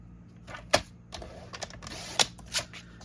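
Bermuda Bay cardstock being cut into 4 by 6 mats on a paper trimmer, a few sharp separate clicks and slicing snaps spaced irregularly, close and fairly quiet.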